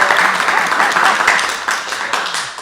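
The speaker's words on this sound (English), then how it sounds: "Great, let's clap." Audience applause from a crowd gathered for a grandparents' storytelling event, a dense, steady patter of many hands clapping close and loud throughout, with faint voices mixed in.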